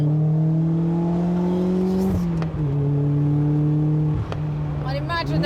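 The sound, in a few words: Lotus sports car engine revving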